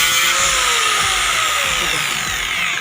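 Power tool cutting a piece of pipe for a sanitizer stand, a loud continuous high-pitched whine and grinding buzz held close throughout.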